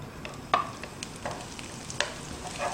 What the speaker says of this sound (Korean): 대파로 향을 내주고요